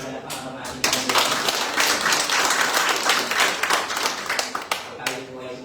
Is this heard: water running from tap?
no